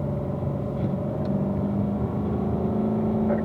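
A car laps a race track at a driving school, its engine a steady, continuous drone with tonal harmonics running throughout, held at an even pace with no sharp revving.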